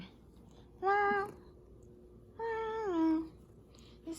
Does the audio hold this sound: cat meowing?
yes